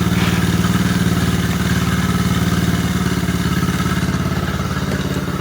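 A Honda Trail 70 motorcycle engine idles steadily off choke, a loud, close, even putter with a fast regular pulse and mechanical clatter that holds throughout.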